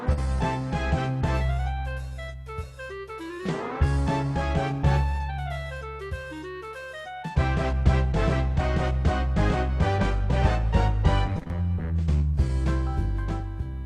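An electronic keyboard plays a song with full accompaniment, a bass line and chords under a bright melody, running steadily and cleanly with no talking.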